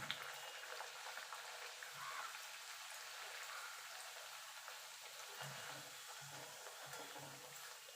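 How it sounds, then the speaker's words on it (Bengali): Luchi, soft yogurt-dough puffed flatbread, deep-frying one at a time in well-heated oil over low-to-medium gas, giving a steady dense bubbling hiss that carries on evenly with no voices. "এবার আমি একটা একটা করে লুচি ভেজে নেব।"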